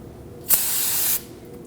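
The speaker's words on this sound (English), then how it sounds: "Now we'll just use some brake parts cleaner to clean this up." A steady aerosol spray of brake parts cleaner on a 2016-2022 Honda Pilot's rear CV axle area, one continuous hissing burst lasting under a second, close and fairly loud against a quiet background.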